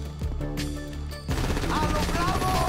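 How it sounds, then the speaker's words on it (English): Rapid automatic gunfire in Grand Theft Auto V, loud dense bursts that intensify partway through and continue steadily under game sound. "Shoot that gas can."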